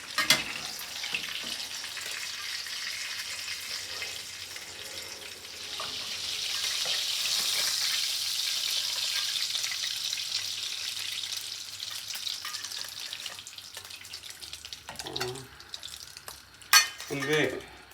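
Eggplant slices frying in hot oil give a steady loud sizzle, with a spoon or spatula scraping and stirring in the pan and faint clinks near the end.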